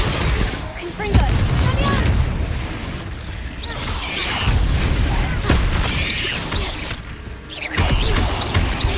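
The Confringo explosive spell goes off in the video game Hogwarts Legacy, in a cave maze: several heavy bursts and crashing impacts erupt one after another, loud and close, with rumbling and clattering between them.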